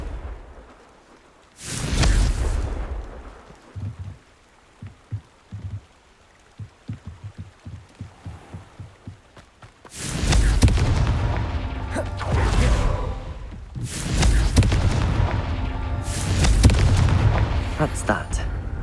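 Confringo blasting spell in the video game Hogwarts Legacy: one loud early boom, then a run of short rhythmic thuds, then two long roaring blasts with rumbling tails.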